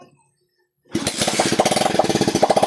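After a moment of near silence, a motorcycle engine with a capacitor fitted kicks on abruptly and settles into a loud, rapid, pulsing idle close by.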